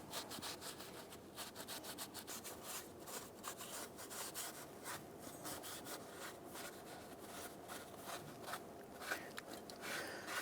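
A shop rag rubs back and forth over the cylinder head of a 1997-2006 Jeep Wrangler after spray solvent, a steady close scrubbing and wiping texture with short repeated strokes throughout.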